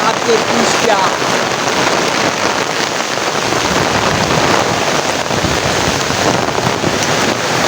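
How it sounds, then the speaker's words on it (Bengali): Heavy rain pours down outdoors in a steady, dense hiss with gusts of wind buffeting the microphone, loud and continuous throughout. "তো এই দেখেন কি পরিমাণ বৃষ্টি হইতেছে"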